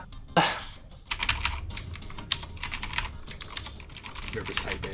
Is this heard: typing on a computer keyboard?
yes